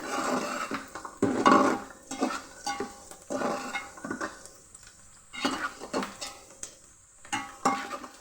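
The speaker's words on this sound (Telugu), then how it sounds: "ఆనియన్స్ కొంచెం లైట్గా బ్రౌన్ కలర్ వచ్చే వరకు ఫ్రై చేసుకోండి ఫ్రెండ్స్" Onions frying in a pan for Andhra-style fish curry, with bursts of sizzling and stirring, spatula scrapes and clinks against the pan coming in uneven strokes between short quieter gaps.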